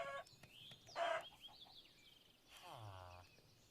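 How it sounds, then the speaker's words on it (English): Minecraft chicken clucks come in short, nearby bursts among other scattered game sounds and a brief falling tone, fairly faint overall, with no one talking. "It's a chicken somewhere around here."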